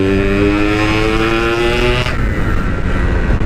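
Yamaha RX King two-stroke motorcycle revving loud and close, the engine holding a steady high buzzing note before dropping into a rougher, lower rumble as it moves off.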